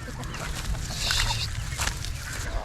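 Aseel hens run around and cluck, with scattered close squawks over a rough, noisy outdoor background. Faint voices can be heard in the surroundings.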